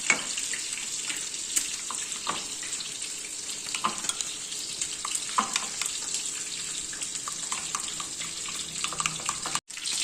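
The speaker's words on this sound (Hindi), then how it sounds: "और ये 1/2 कप है दही, इसको भी इसके अंदर डाल के मिक्स कर देंगे।" Yogurt is mixed into a chicken marinade for tawa chicken, a close, wet, hissing churn with a scatter of soft clicks and scrapes of the spoon against the bowl, ending in a short gap.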